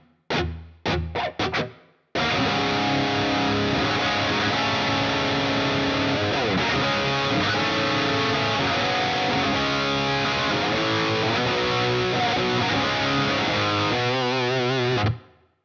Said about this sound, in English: we're gonna use this ambience reverb, which I dig quite a bit